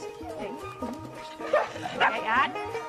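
Several strong male dogs at a sled-dog camp bark and whimper in short repeated yips and whines, close and fairly loud, with a person talking over them.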